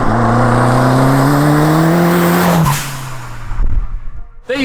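A 350bhp Quantum Cosworth kit car revs hard and loud, its engine note climbing steadily before dropping off as it accelerates away, with a brief burst of engine noise at the end.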